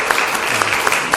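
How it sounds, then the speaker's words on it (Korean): A church congregation claps for the choir, a short dense burst of applause filling the hall at close range and staying steady for about a second. "우리 성가대 박수 한번 보낼까요?"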